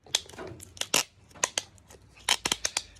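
Adhesive tape is pulled and wrapped around a gutter plug on a 25mm pipe, giving close, sharp bursts of tearing and crackling in an uneven series with quiet gaps between them.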